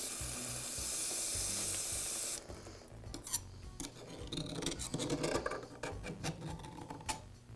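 Brake cleaner sprays in a steady hiss onto the greasy gears of a Milwaukee band saw gear case, a loud continuous burst for about two seconds, followed by scattered scraping and clicking of cleanup work.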